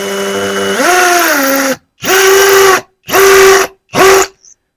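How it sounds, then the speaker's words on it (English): A power drill bores into a concrete wall to mount a picture frame, whining loudly up to speed, then running in four short close bursts separated by brief pauses. "Okay, so we will now drill."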